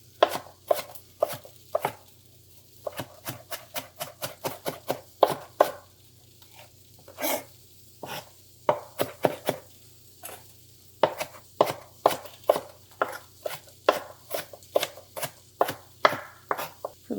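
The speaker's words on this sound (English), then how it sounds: "I'm going to go ahead and run my knife through it" A knife chops food on a cutting board during preparation of entomatadas: rapid, close, crisp taps in quick bursts with short pauses between runs.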